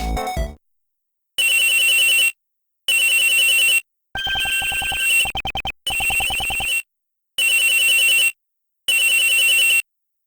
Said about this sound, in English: Whoops. Excuse me, phone call.